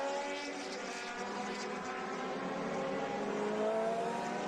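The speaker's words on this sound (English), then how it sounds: "I love the low rumble of these cars, really beautiful sounding." Vintage race cars at a classic Gold Cup event at Virginia International Raceway make a faint, steady distant engine drone that rises slightly as they pass.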